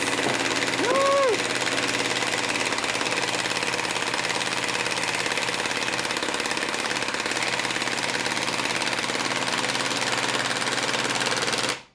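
A Milwaukee M18 Fuel high torque impact wrench hammering at its first setting, a loud, sustained rapid mechanical rattle running steadily for about eleven seconds with a brief rising whine near the start, then cutting off abruptly.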